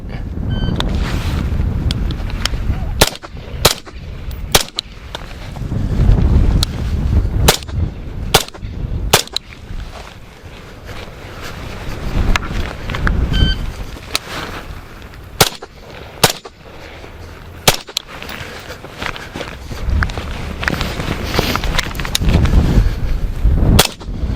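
Sharp, loud gunshots from a shooting drill ring out outdoors on a cold, windy day, some fired singly and others in quick pairs and bursts, with steady wind noise rumbling between them.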